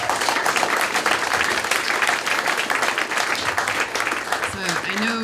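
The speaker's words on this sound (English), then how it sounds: "Let's give her a round of applause." Audience applause at a Silicon Valley tech and society summit: dense, sustained clapping from a crowd filling the whole stretch, with a voice starting to speak over it near the end.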